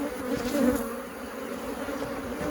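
A dense, steady drone of a couple thousand honey bees buzzing at an open beehive during a walkaway hive split, loud and close, with no voices.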